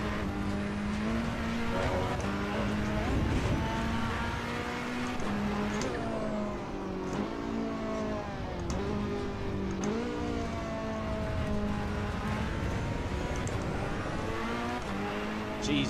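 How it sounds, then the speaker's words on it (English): A turbocharged race car in the Assetto Corsa EVO racing game revs hard and continuously, its engine note climbing and falling through gear changes, loud and close throughout, with turbo chatter and faint tire noise beneath. "Jeez, listen to the turbos."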